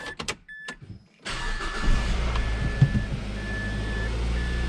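A rebuilt electric power steering pump runs inside a car, a steady low hum with a faint whine under the cabin noise, preceded by a few brief clicks before it switches on.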